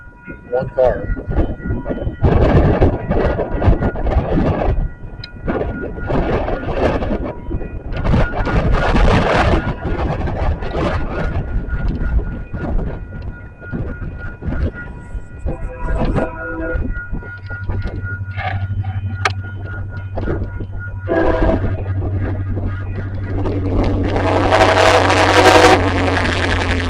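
Union Pacific 1808 leading a local freight train rolls past west of Gibbon, a steady loud rumble with a sustained horn-like tone building toward the end, with a person talking at times over the noise.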